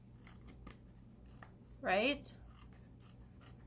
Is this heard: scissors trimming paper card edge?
yes